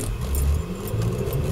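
An MG ZT 190 car under hard acceleration gives a loud, low engine roar with road and wind rumble, heard continuously and close, as from inside the cabin.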